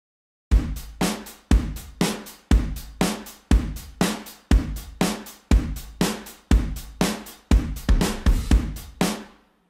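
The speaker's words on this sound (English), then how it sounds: "I just did a classic dance drum groove." A classic dance drum groove in a steady four-on-the-floor pattern, punchy kicks and bright snare and hats repeating evenly, loud and close with no talk.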